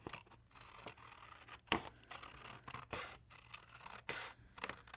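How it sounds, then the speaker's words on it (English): Paper being snipped with scissors at a desk while trimming a planner insert, close-up crisp cutting strokes and rustling of the sheet in irregular bursts, with no talking. "I'm just going to cut it off with scissors because that's what I have in front of me."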